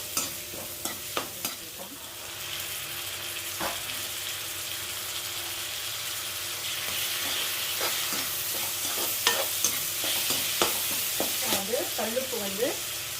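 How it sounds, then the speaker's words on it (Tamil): Ingredients for paruppu urundai kozhambu (lentil ball curry) sauté in a hot pan, with a steady sizzle throughout and frequent sharp clinks and scrapes of a spoon stirring against the metal. "போட்டு நல்லா வதக்கலாம்"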